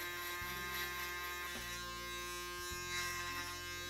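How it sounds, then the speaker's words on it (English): A foil shaver buzzes close up while tightening a skin fade, running in three steady bursts with short breaks as it is lifted and placed back against the head; no talking. "below that, the foil shaver,"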